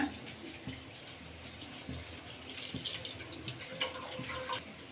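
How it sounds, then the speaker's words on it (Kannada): Milk poured into a pan set on a stove, making a steady soft liquid pouring and splashing sound, moderately quiet, with faint background noise and no talk. "ಈಗ ಒಲೆ ಮೇಲೆ ಬಾಣಲಿ ಇಟ್ಕೊಂಡಿದ್ದೆ ಅದಕ್ಕೆ ಹಾಲು ಹಾಕ್ಕೊಳ್ಳೋಣ"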